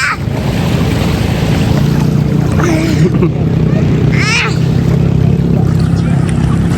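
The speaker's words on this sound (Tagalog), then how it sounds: "May naghahabulang bangka" Motorboat engines drone loudly and continuously over wind and sea water as boats race each other, with a voice talking briefly in the middle.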